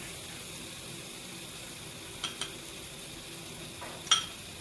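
Water boils in a pan for prawn malai curry, a steady, soft bubbling hiss with a few faint clicks of a utensil near the end.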